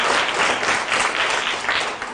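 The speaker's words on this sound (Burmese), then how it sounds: "အဖွဲ့နံပါတ်1ကိုလက်ခုပ်တီးပြီးအားပေးရအောင်" Schoolchildren in a fifth-grade Dhamma school class applaud group one with a burst of many hands clapping that fades slightly toward the end.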